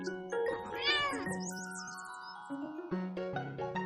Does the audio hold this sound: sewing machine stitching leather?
no